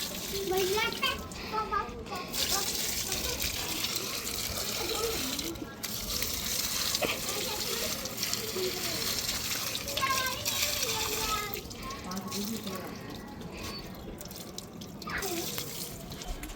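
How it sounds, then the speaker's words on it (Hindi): Water splashes and trickles as it is poured onto sun-dried potted plants outdoors, a steady wet gushing that runs through most of the stretch with voices, including a child's, talking nearby. "इधर पौधों में भी डाल देते हैं पानी"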